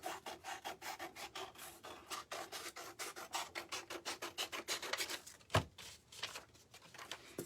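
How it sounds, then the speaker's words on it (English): Sandpaper rasps back and forth over the cut edge of a wooden home decor sign, a steady run of quick rubbing strokes up close with one sharper scrape partway through, no voices. "now we're just going to sand the rest off"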